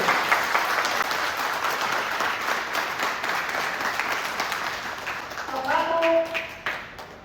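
A crowd claps steadily in sustained applause at a religious Krishna Leela Katha gathering in Junagadh, the rattling sound continuing throughout, with a brief voice or tone near the end.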